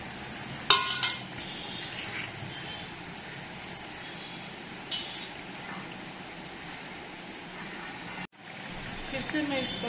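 Prawns and pointed gourd sizzle in a pan of curry gravy with a steady, soft frying hiss, broken by a few clinks of a utensil and with a voice speaking at times.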